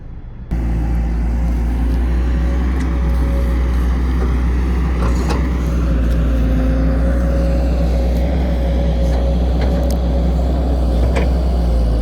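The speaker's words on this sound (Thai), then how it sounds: "งานลอกหน้าดินครับรถขุด XCMG XE 1 3 5 B" An XCMG XE135B excavator stripping topsoil, its engine a steady, loud, continuous drone close by, with faint clanks over the top and no talk.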